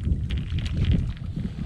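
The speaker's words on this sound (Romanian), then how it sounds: "Nașpa cu vântul, dar n-avem ce să facem." Steady low wind rumble buffets the microphone at a carp and crucian carp fishing spot, a continuous gusty roar with no talk.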